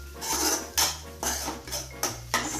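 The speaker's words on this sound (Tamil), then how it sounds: "முட்டையும் கீரையும் சேர்ந்து வேகிற அளவுக்கு அதை கிண்டி விட வேண்டும்." A spoon scrapes and clatters against a metal pan while egg and drumstick leaves are stirred together, five or six distinct rhythmic strokes, close and fairly loud, no voices.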